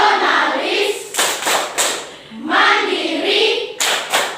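A classroom group of voices chants the Indonesian 'Tepuk PPK' in rhythm, punctuated by bursts of sharp unison clapping, loud and close.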